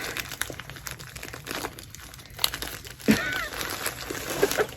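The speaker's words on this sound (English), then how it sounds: "As long as I can get my finger in there, I can just tear the plastic." Plastic wrapping on a spring craft project box torn open by hand, a steady close crinkling and crumpling with sharper rips near the end, alone without talk.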